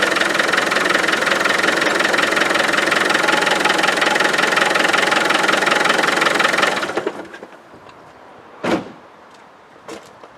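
A Land Rover 300Tdi diesel engine idles loudly with a steady clattering rumble, then is switched off and falls quiet, followed by a couple of sharp knocks or door sounds.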